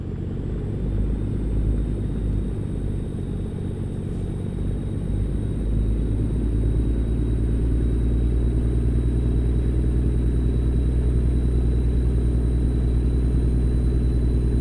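A heavy-haul truck engine in American Truck Simulator growls as a deep, continuous low rumble, steady and loud throughout with no talking.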